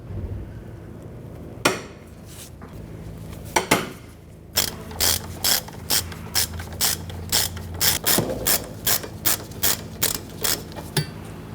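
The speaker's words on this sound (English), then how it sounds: "In our case here, we're using a bar because it's pretty tight and rusty." Breaker bar or ratchet working on tight, rusty 18mm caliper bracket bolts on a 1999-2004 Jeep Grand Cherokee rear brake: a few scattered metallic knocks, then a fast, even series of about a dozen crisp ratcheting clicks, close and alone.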